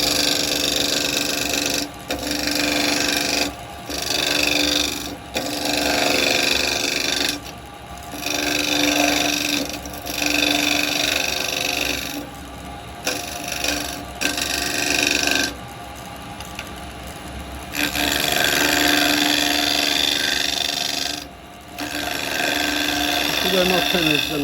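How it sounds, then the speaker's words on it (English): Carbide square chisel cutting wood on a lathe while turning a three-cornered hollowed lidded box, a continuous scraping cut with steady rotational hum that pauses briefly several times, loud and close. "I'm now going to use the square chisel just to come in this way a little bit."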